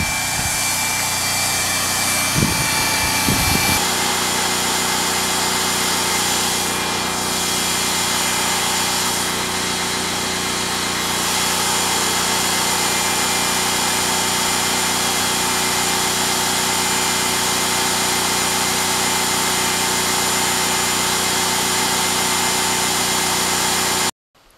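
A drill running a water pump off the grid drones unbroken for the whole stretch, loud and close, with a brief rattle near the start and no voices.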